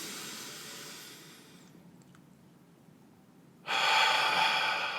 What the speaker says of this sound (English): We're going to do another breath in through the nose.